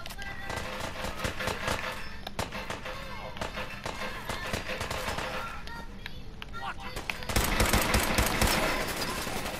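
Gunfire in the video game Fallout 4, a dense, continuous stream of shots and clatter mixed with game noise, growing louder near the end, with someone talking over it.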